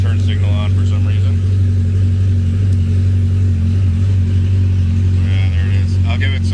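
A trike's engine idles with a steady low rumble close by, then is blipped in short revs near the start and end, loud and continuous as a person talks over it.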